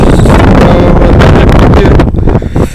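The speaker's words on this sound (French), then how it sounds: "Il y a beaucoup de vent." Powerful wind blasts across the microphone outdoors, a loud roaring rumble that surges and briefly eases near the end.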